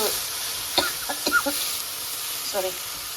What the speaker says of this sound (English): So I put all the masalas and dry roasting